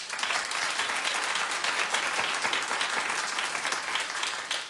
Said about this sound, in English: so clap if you love Celebrity Apprentice.